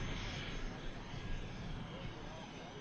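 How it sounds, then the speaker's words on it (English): EasyJet airliner coming in to land at Manchester Airport, a faint distant roar of jet engines with a steady broad rumble, heard from afar at low level. "we have an EasyJet about to touch down"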